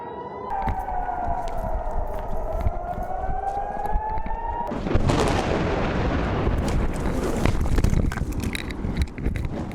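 An air raid siren wails during a rocket attack in Emek, Israel, a steady rising tone at mid distance, then a loud rush of wind-like rumble and blasts covers it.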